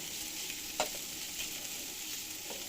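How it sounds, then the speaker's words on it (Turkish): Food sizzles quietly in hot oil in a pan with a constant fine crackle, and a few soft scrapes are heard as the pieces are stirred and turned. "Ben şimdi bak böyle yağ kızdıktan sonra onu böyle bir çeviriyorum."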